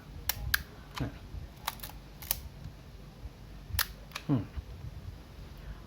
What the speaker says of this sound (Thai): แล้วก็เสียงชัตเตอร์มัน มันแน่นกว่า